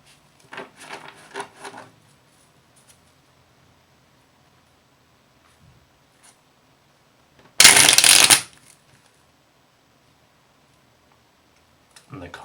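Tarot cards being shuffled in a brief, loud riffling burst of papery flutter, preceded by soft handling rustles and faint clicks in an otherwise quiet room.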